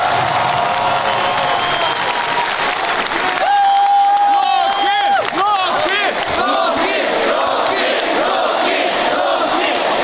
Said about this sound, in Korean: 로키 선수께 큰 박수 부탁드리겠습니다.